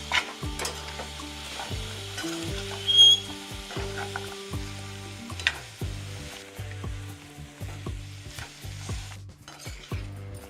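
Raw mango and jaggery stir-fried in a pan, giving a steady sizzle with frequent spatula scrapes and light clinks, close and continuous, while gentle instrumental music plays underneath.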